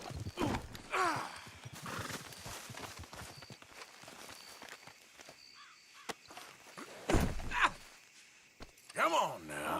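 Horse in a Western video game set around Saint Denis, clip-clopping hooves and several whinnies and snorts, loudest near the start and the end, with game voices talking over parts of it.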